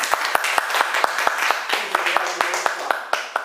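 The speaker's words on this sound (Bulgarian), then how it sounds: "Така че аплодисменти за нея." Audience at a health talk applauding a guest speaker: a run of sharp, distinct hand claps at an uneven rhythm, close and loud, with a faint voice underneath.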